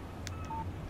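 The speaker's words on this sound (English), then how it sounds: "Text message from Barry." Phone text message alert in the video game Alan Wake Remastered, a short faint electronic beep tone heard once over low ambient game background noise.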